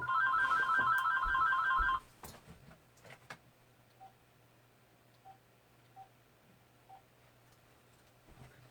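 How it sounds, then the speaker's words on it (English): A mobile phone ringtone plays a bright, repeating electronic tone for about two seconds, then cuts off, leaving a quiet room with a few soft taps and faint beeps. "Of course, I forgot to shut off my phone."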